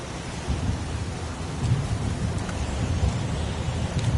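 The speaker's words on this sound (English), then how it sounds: "It's pouring rain." Pouring rain and rumbling thunder in a PS4 video game, a steady dense downpour hiss with low rolling rumbles that swell slightly over a few seconds.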